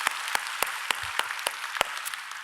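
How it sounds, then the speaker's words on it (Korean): A church congregation claps in unison: sharp, evenly spaced claps land about every quarter second, close and crisp, with no talking. "오늘도 이 자리에 임재하셔서 우리에게 은혜 주시는 좋으신 하나님께 박수로 감사합니다."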